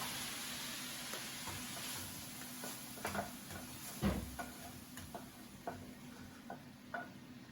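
Vegetables for ratatouille tipped into a wok and stirred: quiet, scattered scraping and clicking taps at an irregular pace, with one sharper knock partway through and a faint steady hum behind.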